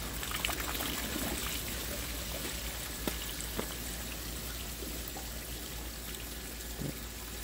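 Steady trickle of rusty water draining from a 1934 Plymouth's cooling system during a flush, a constant wet hiss with occasional small drips and splashes, fairly quiet and close.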